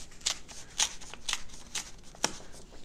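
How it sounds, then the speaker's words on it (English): Sheet of paper folded and pressed under a book, then torn by hand along the crease: a series of short, crisp ripping bursts roughly every half second, close and fairly quiet, with no talking. "tear it along the edge"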